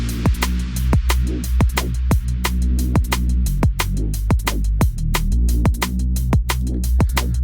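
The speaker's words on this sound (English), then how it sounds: "It's a little drum and bass vibe." Drum and bass instrumental track playing loud and steady, with sharp, rapid percussive hits over a deep sustained bassline and rolling breakbeat rhythm, no vocals.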